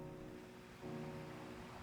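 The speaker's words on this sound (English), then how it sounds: "the cold, harsh winter waves of the Pacific crash into my legs hanging off of a rock" Cold winter Pacific Ocean waves surge and break against rocks, a steady rushing wash of surf with a brief swell in the middle, close and continuous, mixed with wind.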